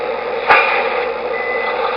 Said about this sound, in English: There are also some reverse warning beeps from the forklift